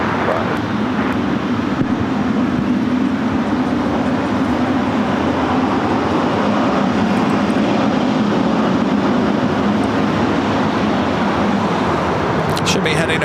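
Alaska Airlines jet in Star Wars livery arriving on runway 7 right at LAX, a loud steady broadband engine roar that holds throughout, heard from nearby on the ground.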